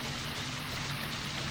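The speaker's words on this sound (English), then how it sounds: "Wait, this doesn't sound too loud for a big waterfall. Most sounds more like a faucet than anything." Large waterfall in LOTRO, a steady close hiss of falling water, thin and faucet-like rather than thunderous, at moderate level.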